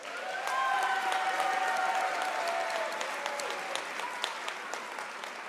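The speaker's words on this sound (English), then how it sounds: "Let us give her a round of applause." Graduation ceremony audience at a South African university gives a steady round of applause, a broad even wash of clapping with some crowd murmur and brief voices calling out near the start.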